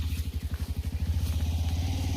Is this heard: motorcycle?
yes